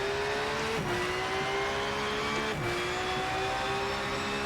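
A race car in the RennSport racing game drives with a loud, steady engine drone that dips slightly in pitch twice as it shifts or lifts, continuous and close throughout.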